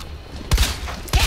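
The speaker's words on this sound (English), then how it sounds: "Oh, that's a reload, that's for sure" Weapon reload in Resident Evil 2 Remake: two sharp mechanical clacks about half a second apart, each a short punchy thud with a bright metallic edge over a low game ambience.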